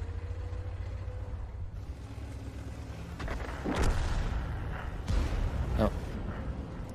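In World of Tanks, a Tiger II tank cannon fires in sharp booms over a constant engine drone, while a person talks.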